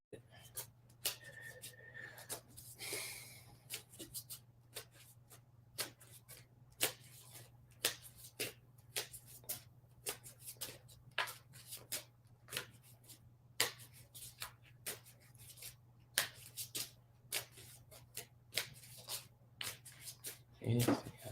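A deck of playing cards being shuffled, with repeated crisp riffling and snapping bursts at an uneven rhythm, close and fairly quiet, over a steady low hum.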